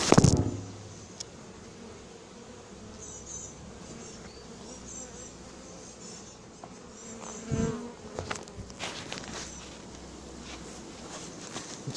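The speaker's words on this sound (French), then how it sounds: "maintenant, je vais verser un petit peu plus d'abeilles" A dense, steady hum of many honeybees being poured into a hive, with a loud thump at the start and scattered knocks and rustles around the middle.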